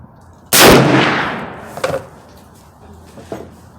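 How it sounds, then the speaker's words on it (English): Single loud rifle shot from a Browning BLR lever-action in .358 Win, fired outdoors at a 50-yard target, a sharp blast with a long decaying tail, followed by faint clunks of handling. "Second shot at 50, same right lower target."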